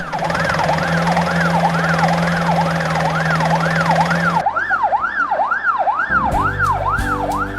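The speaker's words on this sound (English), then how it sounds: "ambulance, ambulance" An ambulance siren wails loud and close, its rising and falling tone repeating steadily with no pauses, then switches to a faster yelp pattern near the end, alone without any talking.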